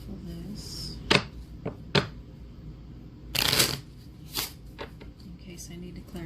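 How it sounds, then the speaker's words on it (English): A deck of cards is shuffled in several quick bursts of riffling and snapping, separated by short pauses, with a person talking quietly in between. "let me shuffle this"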